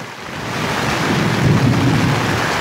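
Thunder rumbling through a heavy storm with wind and rain, heard from inside a yurt: a loud, swelling low roll over constant rain noise, with no voices.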